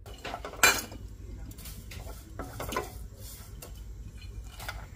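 Coriander seeds, cumin and fennel dry-roast in a pan for gooseberry pickle, with a sharp metallic clink of spoon on pan near the start and then soft, sparse scraping and rattling over a quiet background.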